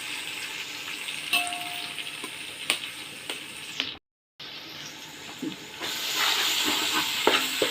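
Oil sizzling in a pan while cooking mutton biryani, a steady close hiss broken by a brief dead silence midway before the frying resumes, slightly louder.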